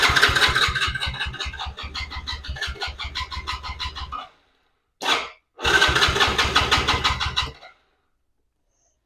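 A 110cc Chinese ATV engine with an intermittent spark fault cranks with a rapid pulsing churn, catches and runs roughly for about four seconds, then cuts out; a brief burst follows before a second attempt runs rough for two more seconds and dies.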